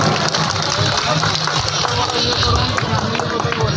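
A large outdoor crowd applauds Odia film actor Chandan, loud continuous clapping and cheering mixed with crowd noise throughout.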